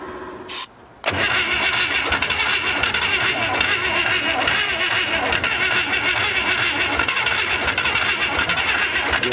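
A long-idle, locked-up 1962 American Rambler engine on a weak battery cranks briefly, stops, then catches and runs with a loud, steady, rough idle that fills the rest of the clip.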